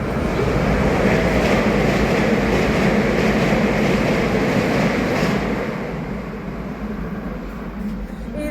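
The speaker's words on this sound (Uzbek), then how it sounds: "지하철 왔다." A subway train pulls into a metro station with a loud, steady rumbling roar that eases and quiets toward the end as it slows, heard up close without clear talk.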